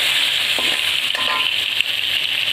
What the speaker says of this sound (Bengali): একদিকে মাছ বসিয়েছি, মাছ ভাজা হচ্ছে